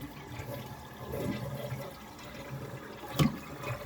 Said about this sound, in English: Let's see if it'll flush yet.